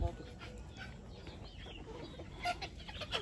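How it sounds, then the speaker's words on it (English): Chickens clucking softly at feeding time on a farm in Liberia, faint scattered clucks over low background noise. "Time for chickens to eat. Chickens are eating now."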